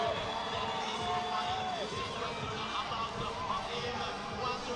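An Italian crowd at a youth climbing world championship lead semi-final in Arco roars steadily behind a climber, a dense, continuous wash of cheering and shouting that stays loud throughout.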